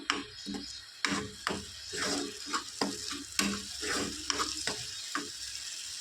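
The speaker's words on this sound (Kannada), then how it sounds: "ಚೆನ್ನಾಗಿ ಫ್ರೈ ಆಗಿ ಸ್ವಲ್ಪ ಎಣ್ಣೆ ಬಿಟ್ಕೊಳ್ಬೇಕು ಮೇಲೆ ಅಲ್ಲಿವರೆಗೂ ಚೆನ್ನಾಗಿ ಫ್ರೈ ಮಾಡ್ಕೋಬೇಕು" Ground masala frying in hot oil for a hotel-style matar (green pea) kurma, with repeated scraping and stirring strokes against the pan over a steady sizzle, close and fairly loud, no talking.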